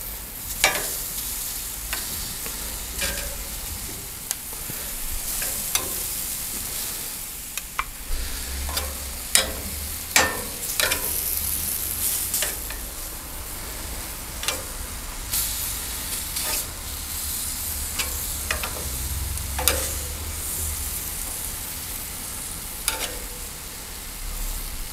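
Persimmon slices sear in a hot pan with a steady hiss, broken by frequent clicks and taps as the pieces are turned.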